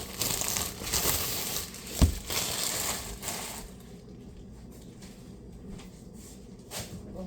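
Knife slicing through a slab of soft Hawaiian rolls, cutting them in half: soft crinkly sawing and crumbly rasps up close, with a brief thump partway through, then quieter handling.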